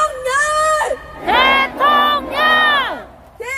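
Crowd at a Korean rally opposing a presidential impeachment, chanting a leader's call and response in unison: one shouted call followed by three long, loud drawn-out group chants, each swelling and fading before the next.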